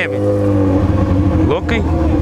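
A BMW sports car in a convoy of supercars drives past with a loud, steady engine drone close by, while people talk over it.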